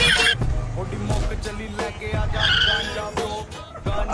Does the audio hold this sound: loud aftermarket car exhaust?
yes